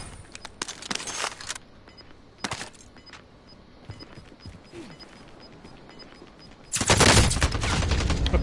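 Hostile gunfire in the Warzone video game: scattered sharp automatic bursts early on, then a loud, sustained stream of close machine-gun fire at the end.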